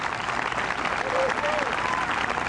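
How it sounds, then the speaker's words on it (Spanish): A congregation at an outdoor religious gathering in a park applauds, a full, steady roar of clapping mixed with crowd noise and a few faint voices underneath. "¿Cuántos dan un aplauso al Dios de la palabra por eso?"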